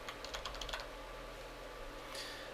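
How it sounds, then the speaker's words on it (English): Fingers tap quickly on a computer keyboard in a short burst of clicks, then stop, with one faint extra click near the end. "simply begin typing the information on the right"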